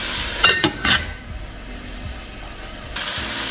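Vegetables and shrimp for stir-fried noodles sizzling in a pan, a loud hissing fry with a few sharp scraping strokes of stirring early on, then steadier sizzle returning at the end, no voices.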